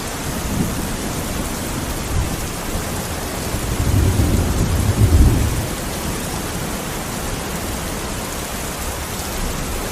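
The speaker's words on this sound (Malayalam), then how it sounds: "ഇപ്പോൾ മഴയും തുടങ്ങിയിട്ടുണ്ട് ഇപ്പോൾ ഇവിടെ." Steady rain pours down outdoors at a backyard aviary and pond under construction, while a low rolling thunder rumble swells up in the middle and fades, with no voices present.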